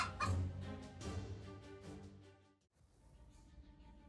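A domestic hen defending her chicks from a cobra gives loud, agitated clucking squawks in quick bursts, then a brief pause before quieter, lower clucks resume.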